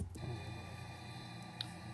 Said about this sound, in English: So there's obviously a lot of machinery going on in the background that we could not turn off.